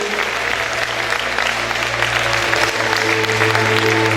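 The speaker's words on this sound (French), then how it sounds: "Applaudissements s'il vous plaît pour toutes les candidates de cette première catégorie." A live audience at a pageant results show applauds the contestants of the first category, a steady wash of clapping that holds evenly throughout, with a low musical hum underneath.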